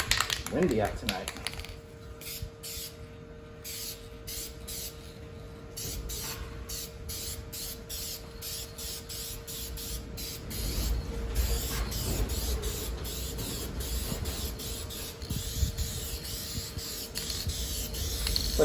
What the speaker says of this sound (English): I think I'm just gonna throw some black spray paint over the top of that